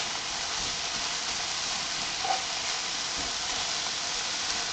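Cheesesteak meat browning in a hot pan, giving a steady, even sizzle with a faint crackle that stays constant and close, no voices.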